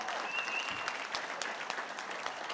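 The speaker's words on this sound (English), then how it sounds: "Give them again a big round of applause" Sustained audience applause at a 50th anniversary celebration dinner, a dense steady wash of clapping from a large crowd that continues throughout.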